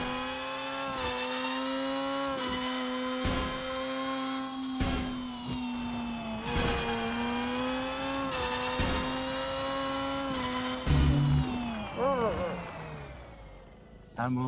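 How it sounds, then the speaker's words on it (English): A race car in the game Screw Drivers, its engine droning and revving with steady, shifting pitch through gear changes, near and loud, with a spoken voice running over it and a tire squeal or skid near the end. "the car is at least drivable enough so that we can finish the race"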